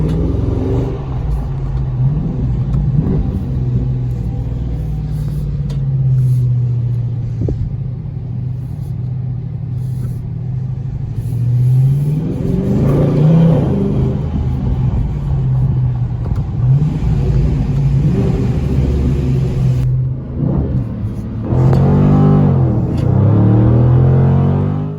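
A 2020 Dodge Scat Pack widebody driving, its engine a deep steady rumble from inside the car with several rising revs and accelerations, the loudest surges near the middle and end.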